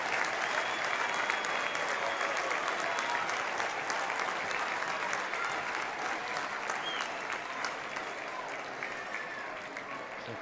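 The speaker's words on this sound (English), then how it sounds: "Peter Paris will get a warm round of applause, to say the least." Stadium crowd at a women's football match, Manchester United against Reading, applauding a substitute coming on, a broad, distant, sustained wash of clapping that fades slightly toward the end.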